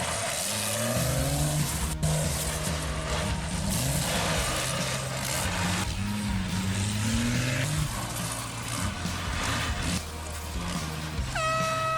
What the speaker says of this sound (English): Now it's time for Jerry Stevens to test out all those repairs they did to the diesel buggy.